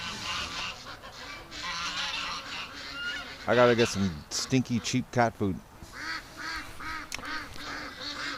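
Penned ducks on a winter farm quack in a loud close cluster midway through, with scattered calls later, while someone talks nearby.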